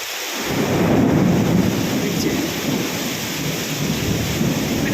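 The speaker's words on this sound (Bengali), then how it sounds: "সেই জন্য এত বৃষ্টি আজকে" Heavy monsoon rain pours down in a loud, unbroken roar, with deep thunder rumbling through it, close and dense for the whole stretch.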